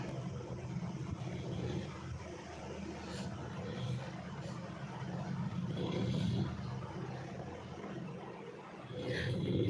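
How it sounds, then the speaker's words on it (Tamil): A motor runs steadily as a low, faint droning hum with a gently wavering level, with no talk over it. "மோட்டர் சவுண்டு வருதா?"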